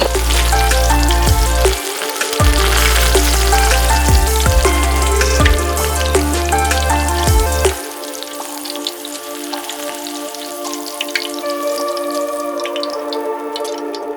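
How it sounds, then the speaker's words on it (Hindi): Hot oil sizzles and crackles steadily as spices fry for a tempering in a beachfront rental house kitchen at Sapphire Beach, NSW, close by, with a deep rumbling hum underneath for the first half before it drops away. "आपको तड़का लगाना है ऑयल डाल के"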